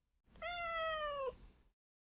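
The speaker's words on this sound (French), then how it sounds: "Avec un invité spécial, le chat." A single drawn-out cat meow, clear and close, rising then sliding slightly down over about a second, alone with no talk.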